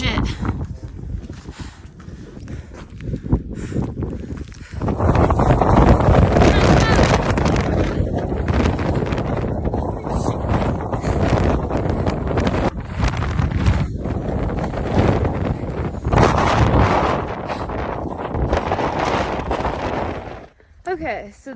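Strong wind on the high Collegiate West mountain trail after a hailstorm, roaring and buffeting into the microphone in loud, sustained gusts with brief lulls.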